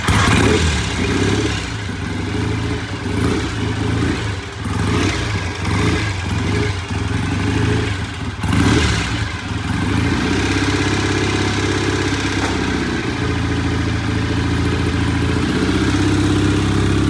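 A 1965 BSA motorcycle engine runs steadily during a test ride, a continuous close mid-pitched drone with uneven pulsing in the first half and a smoother, sustained tone later, heard alone.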